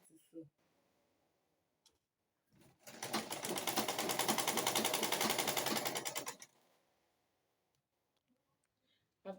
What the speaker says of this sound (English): Sew it straight downward.